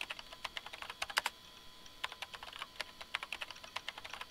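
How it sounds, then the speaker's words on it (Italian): Someone types on a computer keyboard in a quiet room, with quick, uneven bursts of soft keystroke clicks and a short pause partway through. "Il suo suono che riverberava attraverso la stanza era quello di qualcuno che stava battendo tasti sulla tastiera."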